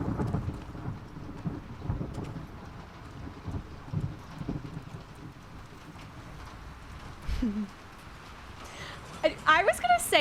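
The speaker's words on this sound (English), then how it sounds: "hearing the rain sounds outside" Rain patters steadily with occasional thunder rumbles in The Last of Us Part II, heard softly under game sounds, with louder bursts near the end.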